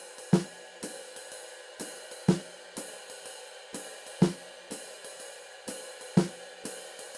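Jazz comping on a drum kit: a firm snare stroke lands once per bar on beat 3, with lighter strokes ticking evenly in between at a moderate, steady pace, close and clear with no voices.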